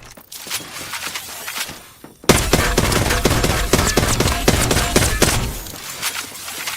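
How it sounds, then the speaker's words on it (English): Rapid bursts of Apex Legends gunfire, loud and dense, with a sudden jump in intensity partway through and quieter action sounds before it. "Let's see if the gunfire drowns out the footsteps."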